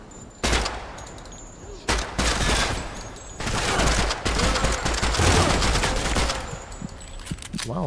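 Rapid bursts of video-game gunfire from incendiary rounds in Project Silverfish, loud and close, several sustained volleys with short gaps and dense crackling impacts.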